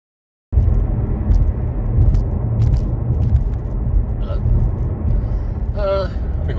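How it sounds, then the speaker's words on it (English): A car cruising along the M6 motorway gives a steady, close interior road rumble and engine drone. The noise holds level throughout, with a few faint higher chirps near the end. "I'm in my car."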